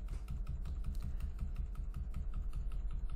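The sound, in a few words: pressing arrow keys on a computer keyboard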